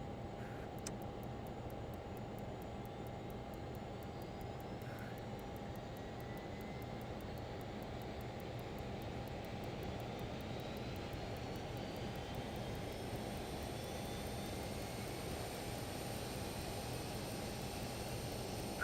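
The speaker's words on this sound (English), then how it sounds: "Really cool sounds, these turbine engines" Learjet 35A turbine engines run in Microsoft Flight Simulator, giving a steady, sustained whine on one held tone over a constant airy rush and low rumble. The sound stays unchanging for the whole stretch.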